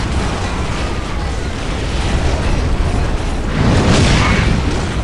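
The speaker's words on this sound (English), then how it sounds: "I think I am throwing grenades." Grenade explosions from the video game Space Marine roll out as a continuous dense rumble of blasts amid battle noise, swelling into a louder burst near the end, with no speech.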